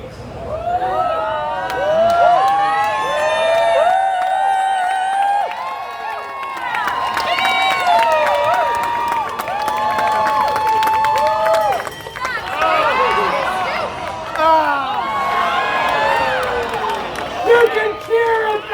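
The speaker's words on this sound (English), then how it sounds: "You can cheer it back!" Audience at a live stunt show cheers, whoops and shouts together in a loud, sustained crowd roar with a performer calling out over it.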